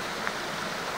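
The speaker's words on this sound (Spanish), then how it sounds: "un pequeño desvío para ver el río Monachil" The Monachil river flows near the Fuente de las Chorreras, giving a steady, close, broadband rush of water with no pauses and no talking.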